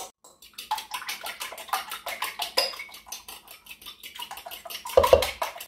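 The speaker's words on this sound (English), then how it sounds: "I'm just going to take a fork and beat those up." A fork beats three large eggs in a bowl for keto low-carb hushpuppy batter, giving a rapid, steady run of clinking taps and splashes close up, with a slightly louder knock near the end.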